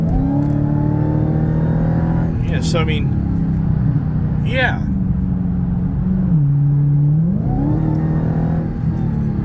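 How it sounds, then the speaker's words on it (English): A Dodge Challenger Redeye wide body with a supercharged engine rumbles at a loud, close idle, with a couple of short blips of revving and a whining supercharger note. Someone talks briefly over it. "What you hear mostly is that supercharger"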